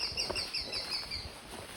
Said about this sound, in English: I believe they're either Cooper's hawks or type of falcon.